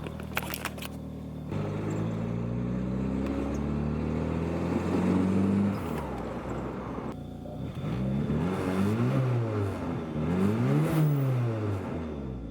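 A 2g DSM car fitted with a swapped eBay turbo pulls away and accelerates around a block, engine note rising through the gears with rising and falling revs, loud and close from inside the cabin, with an exhaust leak present.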